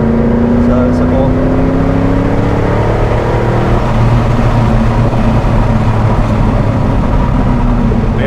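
A Ford Mustang Bullitt with a 315 hp V8, heard from inside the car, delivers a loud continuous engine drone with rising revs under acceleration. The roar stays constant through the whole stretch.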